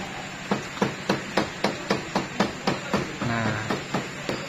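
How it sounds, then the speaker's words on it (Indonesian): A rubber mallet taps a two-stroke motorcycle block being fitted in a workshop, about a dozen evenly spaced dull knocks, close and fairly loud, with a brief scraping sound near the end. "pakai palu karet"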